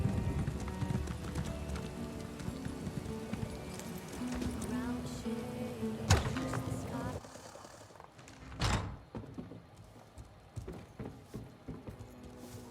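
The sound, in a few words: horse hooves clip-clopping in video game Elder Scrolls Online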